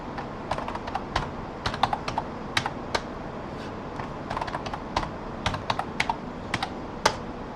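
Keys clatter on a computer keyboard as a new password is entered for a Dell/EMC G620 switch, in irregular bursts of close, crisp taps separated by short pauses.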